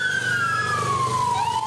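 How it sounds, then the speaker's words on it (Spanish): Emergency sirens wail during a disaster drill in Quito, a steady falling tone sounding loud and continuous over the street without any talk. "El sonido de las sirenas"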